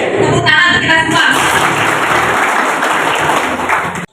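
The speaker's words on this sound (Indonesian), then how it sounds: "Tepuk tangan untuk kita semua." A crowd at a village meeting on an anti-corruption program claps together in a loud, even round of applause after an opening cheer, ending abruptly after about four seconds.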